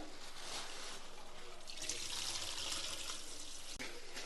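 Tap water runs steadily into a kitchen sink while raw chicken is washed for cooking, a continuous close splash and trickle with a brief clunk near the end.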